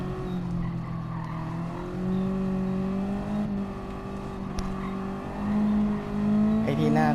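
Race car in Gran Turismo lapping the Nurburgring, engine droning at a steady pitch then dropping as it brakes hard into a corner, with tyre squeal and a revving rise near the end; someone talks over it.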